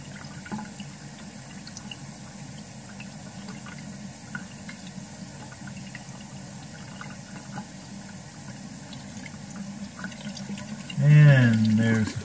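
Water draining through a U siphon in an aquaponics tank gives a faint steady trickle and flow, with a louder gurgling surge near the end; a voice speaks briefly.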